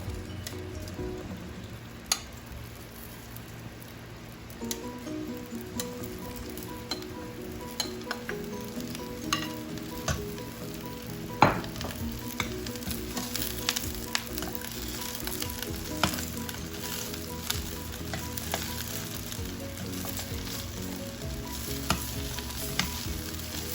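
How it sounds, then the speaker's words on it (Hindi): Okra sizzling in two tablespoons of cooking oil in a pan, a continuous close crackling fry with scattered pops and light scraping throughout. "पैन में मैंने लिया है 2 टेबलस्पून कुकिंग ऑयल और अब मैं इसमें ये भिंडी ऐड करने लगी हूँ"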